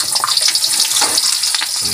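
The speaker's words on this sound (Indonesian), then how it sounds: "Ini bawang merah kita goreng terlebih dahulu." Shallots sizzle in hot oil for a peanut chili sauce, a loud, steady crackling hiss with bursts of spattering and occasional stirring clinks.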